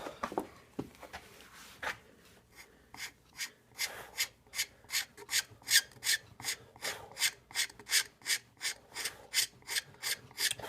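A scraper stripping varnish from a wooden gun stock makes close, rhythmic rasping strokes, about two per second, steady and repeated over a quiet background with a few scattered knocks at the start.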